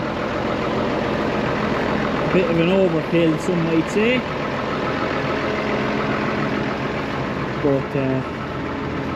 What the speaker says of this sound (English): she's a grand old tractor for bedding